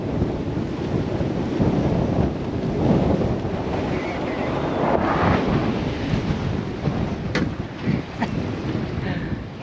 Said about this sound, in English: It is very blustery.